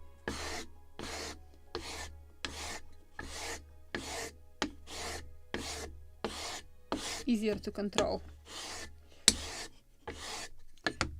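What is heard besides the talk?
sanding a wooden ship model spar with a sanding block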